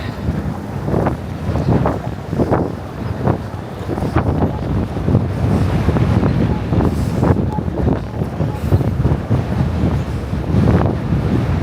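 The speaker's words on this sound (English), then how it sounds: "There's the wind again." Gusts of wind sweep along a New York City street near the West Village and High Line, loud roaring buffets hitting the microphone in waves, with brief lulls between the surges.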